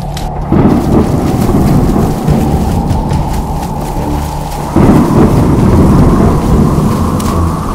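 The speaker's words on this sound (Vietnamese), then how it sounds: "ta đang ở trong tâm bão," Cartoon thunderstorm with heavy rain pouring steadily, loud and close, broken by two deep rolling thunderclaps, one near the start and another midway.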